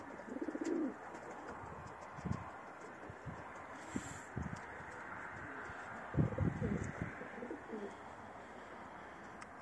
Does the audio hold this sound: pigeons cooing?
yes